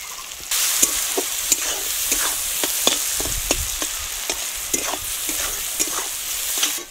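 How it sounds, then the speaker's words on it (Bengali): Onions fry in oil with salt and turmeric while being stirred, a steady sizzle punctuated by repeated scraping strokes of the spoon against the pan, close and without talk. "আমি পেঁয়াজটা ভালোভাবে ভেজে নেব"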